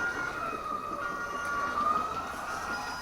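Wailing siren from a Scalextric BMW police slot car played on a slot car track, a steady rising-and-falling tone held under a hiss of background noise for about three seconds, with no talking.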